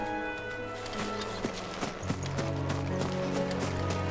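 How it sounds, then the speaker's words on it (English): Chocobos run in Final Fantasy XVI, giving quick, rhythmic clip-clop footfalls that sound like galloping hooves, set over soft game music. "Jill is up here taking care of the chocobos that I aggroed"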